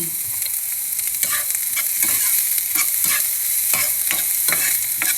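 Shallots and chili stir-fried in a pan, a steady close sizzle with repeated scraping strokes of a spatula every second or so, no voices.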